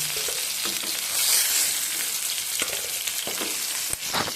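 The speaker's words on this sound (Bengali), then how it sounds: "এইভাবে আমি সমস্ত মাছগুলো ভেজে তুলে নেব।" Bhola fish frying in hot oil for a spicy potato-and-fish curry, a steady dense sizzle with occasional crackles and spatters, close and continuous, no voices.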